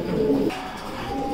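German shield pigeons cooing softly at close range in a short, low throaty burst, with no talk over it.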